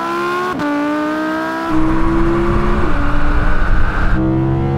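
An electric car accelerates hard in a drag race with a rising whine, shifting pitch as gears change, loud and close with a roaring surge through the middle.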